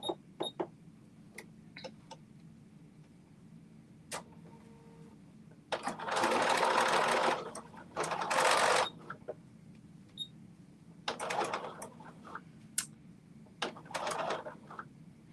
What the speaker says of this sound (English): I will be serging this piece